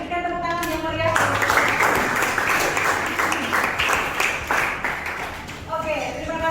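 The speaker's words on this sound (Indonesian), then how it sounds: "berikan tepuk tangan yang meriah" Lively applause from a teacher-training class audience, a dense wash of clapping that swells after a second and runs steadily for several seconds, framed by a sustained tonal hum at the start and end.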